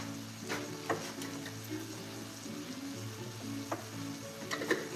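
Seafood paella sizzles and fries in a hot pan, a steady dense crackle running throughout with occasional sharper pops and stirring scrapes, close and fairly loud with no talking.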